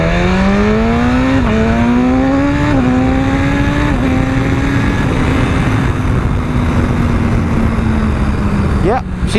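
A 2017 BMW S1000RR sport motorcycle accelerates hard through several quick upshifts, its engine note climbing and dropping in a steady rising rhythm, loud and close under constant wind rush.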